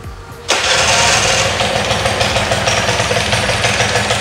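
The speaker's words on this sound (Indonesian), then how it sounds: "motornya langsung hidup." A motorcycle engine catches after a brief starter crank and settles into a loud, steady close-range idle that runs on alone.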